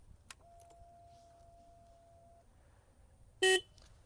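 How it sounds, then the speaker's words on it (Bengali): A Hero Xtreme 250R motorcycle horn gives a single short, loud, close honk after a quiet stretch with a faint steady tone. "এখানে আমি আপনাদেরকে দেখাচ্ছি হর্নটা।"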